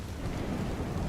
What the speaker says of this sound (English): Oh, the storm came back.